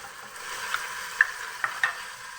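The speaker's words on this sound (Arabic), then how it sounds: "نقلي البصله تاعي" Onion fries in a pan with a soft, steady hiss, punctuated by a few faint utensil clicks as it is stirred.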